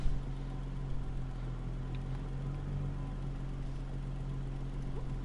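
Forged 3.8-liter V6 car engine in the racing game Need for Speed Heat, heard as a steady low idle hum with a slight rev, running alone and even in level throughout.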